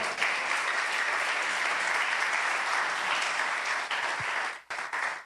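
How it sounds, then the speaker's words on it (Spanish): A church congregation claps steadily and loudly for several seconds, the applause thinning briefly near the end before a last burst. "¿Alguien le da un aplauso al Señor?"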